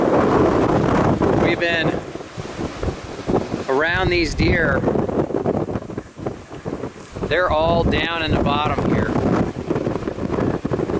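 Strong wind gusts across an open hillside during a mule deer hunt, a loud buffeting roar battering the microphone. Someone speaks over it in short bursts.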